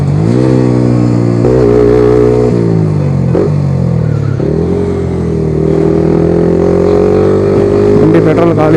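A Yamaha R15M sport motorcycle engine revs steadily while riding, its tone rising and dipping through gear changes, loud and close throughout with wind rush and no talk.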